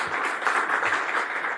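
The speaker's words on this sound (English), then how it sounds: "applause for Philip." A brief burst of audience clapping fills the room after a startup pitch at an AI event.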